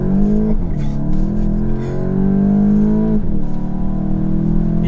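A VW Golf 8 GTI in sport mode accelerates hard, its engine note rising steadily through the revs with two quick dips at gear shifts, loud and close from inside the car.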